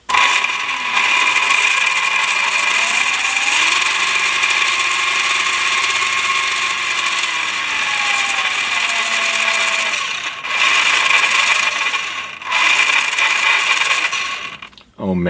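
Electric motor in a Tamiya Blackfoot RC car runs on a test with the car held up, a steady high whine that rises and falls in pitch with throttle, briefly cutting out twice before a final burst.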